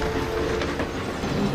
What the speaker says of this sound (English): soon Murdoch shrieked through with a heavy goods train.